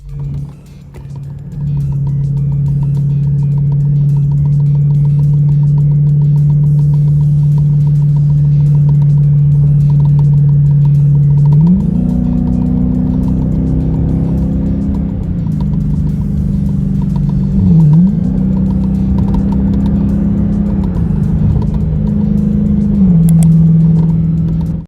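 A 2016 Dodge Charger driving, heard from inside as a loud, steady engine drone that holds one pitch, then climbs and shifts through several changes in the second half, with no talking.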